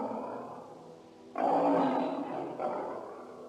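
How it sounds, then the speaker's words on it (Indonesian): A tiger roars in a mystical Indonesian drama set in a mountain valley: a loud, deep, rumbling roar bursts in after a quieter lead-in, then a second swell follows. "Suara aum harimau."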